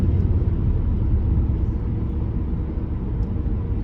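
A 2017 Cadillac ATS accelerates hard from a 40 mph roll, heard from inside the cabin as a steady, loud low engine rumble without clear breaks between gears.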